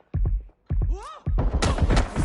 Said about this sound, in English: Taking fire! Gunfire.